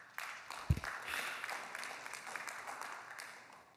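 Applause rises in a city council chamber during a special meeting to fill a district vacancy, with a sharp knock near the start and a steady, distant patter of clapping from the crowd that carries on to the end.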